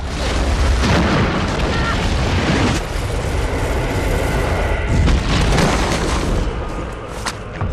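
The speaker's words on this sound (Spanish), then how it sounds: "pero activó una mina antipersonal. Contiene 226 gramos de TNT" An anti-personnel landmine packed with 226 grams of TNT detonates in the wild, giving a loud, sustained booming rumble that fills the whole stretch with dense, roaring noise and a few sharper swells.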